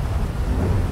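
Heavy rain and rolling thunder in the GTA V FiveM video game, a loud low rumble beneath a dense wash of rainfall, steady for a brief moment.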